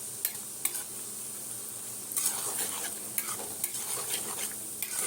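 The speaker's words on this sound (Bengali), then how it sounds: "এই যে এইভাবে নাড়াতে হবে, তেলটা তাহলে চারিদিকে ছড়িয়ে যাবে" Semolina nimki frying in hot oil, stirred with a utensil: a steady bright sizzle runs throughout, punctuated by several sharp scraping and clinking stir strokes against the pan, close and fairly loud, with no talking.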